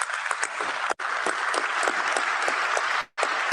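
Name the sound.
applause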